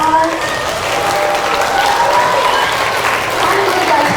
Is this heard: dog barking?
no